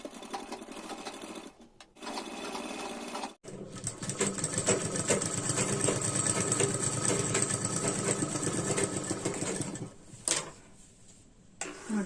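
A sewing machine stitches a blouse corner in a steady, close run of rapid needle strokes lasting several seconds, preceded by two short starts and ending with a few scattered clicks.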